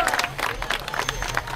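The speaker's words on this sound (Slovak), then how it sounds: "ale obrovský potlesk" Spectators at the Slovak cyclotrial championship applaud a rider with brisk, close clapping and crowd noise, a short dense burst with no talk over it.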